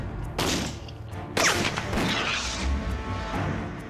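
A shot fired into a catalyst compound, heard as two sharp, loud gunshot-like blasts about a second apart, each followed by a rumbling decay and lingering echo, with no other voices.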